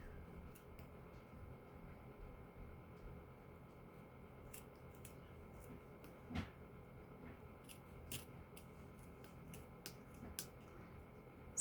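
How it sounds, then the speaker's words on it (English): Scissors trim craft material for a homemade Valentine gnome, producing a few faint, sparse snips and clicks over a quiet background. "I'm just going to cut it on a bit of an angle"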